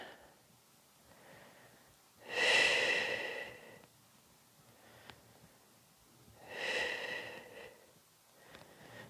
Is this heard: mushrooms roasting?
no